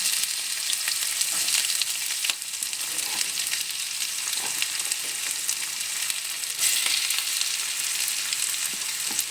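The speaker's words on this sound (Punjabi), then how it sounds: "ਹੁਣ ਅਸੀਂ ਪਿਆਜ਼ ਪਾ ਦਾਂਗੇ ਫਲੇਮ ਥੋੜਾ ਘੱਟ ਹੀ ਰੱਖਣਾ ਜ਼ਿਆਦਾ ਤੇਜ਼ ਨਹੀਂ ਕਰਨੀ ਗੈਸ" Onions frying in a pan over a low gas flame, a steady close sizzle with faint crackles and occasional stirring scrapes running throughout without any talk.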